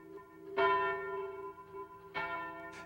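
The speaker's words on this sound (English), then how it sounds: "It is a bell cast by Paul Revere in 1816." A church bell at King's Chapel, cast by Paul Revere in 1816, rings out in two clear strikes, each followed by a long humming decay, moderately distant and with no voices.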